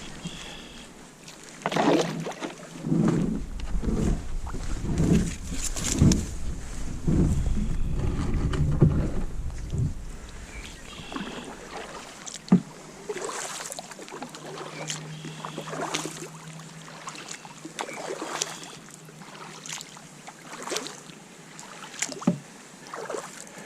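A sit-inside kayak paddled on a lake, with uneven splashes and water swishes from the paddle, knocks against the hull and some wind noise at close range.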